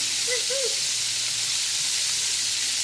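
Orange chicken pieces sizzling steadily in a hot frying pan, a constant bright hiss with a few faint scraping touches as pieces are turned, close and even throughout.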